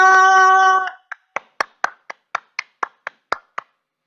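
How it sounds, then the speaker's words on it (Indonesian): A church congregation clapping in praise: a sustained tone fades out, then about a dozen sharp, evenly spaced hand claps ring out clearly and close, each distinct with a short decay. "tepuk tangan yang luar biasa untuk Tuhan kita"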